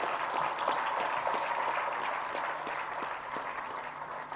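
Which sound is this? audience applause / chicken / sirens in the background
audience applause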